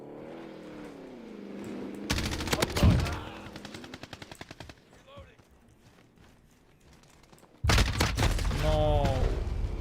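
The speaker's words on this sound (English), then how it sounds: "Teammate is shooting me." Video game gunfire from a teammate: rapid automatic bursts of sharp shots come in two loud stretches, separated by a quieter gap with someone talking over the game sounds.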